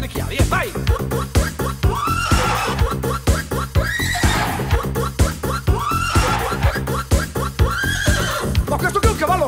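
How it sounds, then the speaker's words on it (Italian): Horse neighing and whinnying repeats several times over a loud, rhythmic 1980s dance megamix beat, the animal calls rising above the steady music. "tocca adesso il cavallo, the horse"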